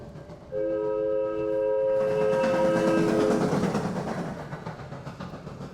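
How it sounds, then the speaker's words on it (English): Train in the video game Abiotic Factor running on its track, starting with a loud multi-tone horn, then a steady rumbling roll with rhythmic clatter that slowly fades. "And we got the train going around."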